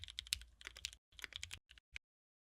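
Keys clack on a custom mechanical keyboard in two quick bursts of crisp, close typing, followed by two lone keystrokes and then silence.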